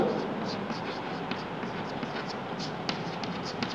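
Chalk writing an example on a classroom board, a steady scratchy scribble with small taps between strokes, heard close under light background hiss and no clear talk.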